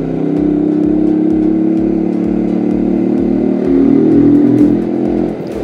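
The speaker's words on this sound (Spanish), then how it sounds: "El sonido del escape me gusta" An Italika FT 125 classic motorcycle's engine and exhaust idle with a steady, rapid low putter, swelling into a louder rev near the end before dropping back, close up and with no talking.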